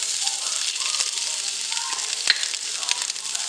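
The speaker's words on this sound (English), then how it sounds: "So we're going to add our garlic now" Garlic sizzling in hot oil in a sauté pan while Chicken Marsala is being made: a close, crackling fry with small pops and light rattles from the pan.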